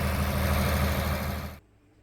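A roughly 45-year-old farm tractor with its original alternator runs at a steady, loud low-pitched idle rumble, then the engine cuts off abruptly near the end, leaving near silence.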